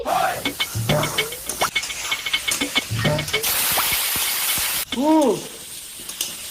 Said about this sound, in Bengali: দেখিস না আলু ভাজা করতেছি